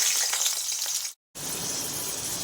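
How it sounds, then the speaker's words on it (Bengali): Cut papaya pieces frying in hot oil for a vegetarian vegetable dish, a loud steady hiss and crackle that briefly cuts out and then resumes at full strength. "এবার আমি এই তেলের মধ্যে কেটে রাখা পেঁপেগুলোকে প্রথমে ছেড়ে দিলাম।"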